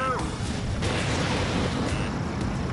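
Missile launch and explosive rumble in the aerial combat game Ace Combat 7, a dense, continuous roar of fire and blasts with radio-style voices mixed in.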